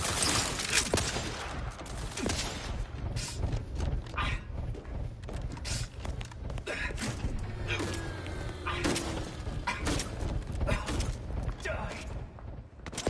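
Gunfire in The Outer Worlds 2 crackles in rapid bursts and single shots amid game mechanisms and clatter, mixed with voices talking throughout.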